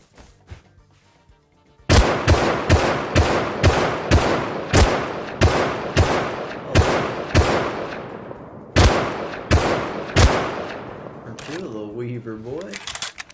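Gunfire in the console edition of the game Rust: a steady string of about a dozen loud, sharp single shots spaced roughly half a second apart, with a short gap near the end before two more shots.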